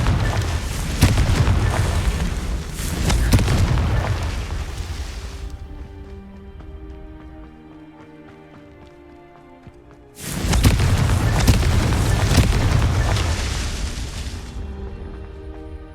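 Confringo spell blasts in the video game Hogwarts Legacy: two loud, booming explosions several seconds apart, each with a long rumbling decay, with quieter musical tones filling the gap between them.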